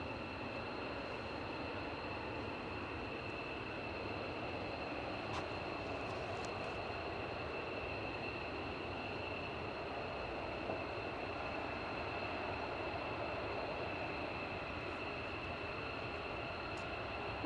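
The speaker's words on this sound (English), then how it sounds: "KC-135 tanker, on the move at the Hull." A USAF KC-135 tanker aircraft taxis on the ground, a steady broad jet rumble with a sustained high whine that stays even and somewhat distant for the whole stretch.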